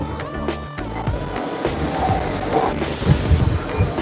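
Rough sea waves wash and crash along a beach on Boracay Island, a loud continuous surf roar with gusty turbulence, and no talking.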